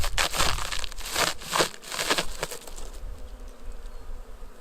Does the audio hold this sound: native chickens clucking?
no